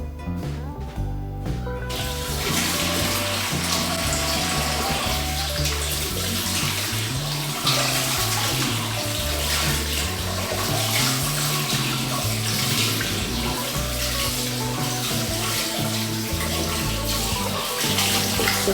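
A tap pours hard and steadily into a basin while an oatmeal face mask is washed off, a loud, close, continuous splashing that runs alone without talk.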